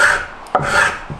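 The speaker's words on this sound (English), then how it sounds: "just pushing across the wood with the blade, you get this lovely tooled finish" Travisher blade pushed across wood, giving close, loud rasping shaves in two strokes separated by a brief knock, with no talk.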